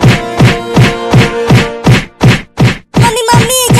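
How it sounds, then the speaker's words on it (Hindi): A cartoon cat bangs at a cupboard in a rapid series of about ten regular loud thumps and whacks, followed by shrill tonal cartoon sound effects at the end. "अरे बाप रे अब तो अलमारी को ही गिराने लगी बिल्ली।"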